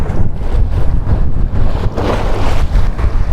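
Water waves splash and slosh steadily against a boat at sea, mixed with gusty wind buffeting the microphone, continuous and close with no speech.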